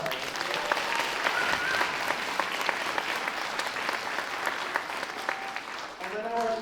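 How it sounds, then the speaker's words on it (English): An audience gives a sustained round of applause honoring elders at a school event with fourth graders, dense even clapping from many hands filling the room for several seconds before tapering off. "Can we give one more round of applause to our elders?"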